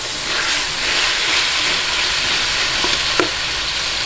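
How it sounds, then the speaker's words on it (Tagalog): Chicken pieces sautéing in a hot pan for Filipino sotanghon noodle soup give off a steady, close sizzle and hiss, with a couple of brief stirring scrapes near the end. "Ngayon, lagay po natin ang chicken. Ayan. Gisa-gisahin lang po natin."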